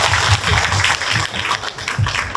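Applause from participants at a Korean citizens' public forum on household waste and incineration facilities, a burst of clapping of steady loudness lasting a couple of seconds, with no voices over it.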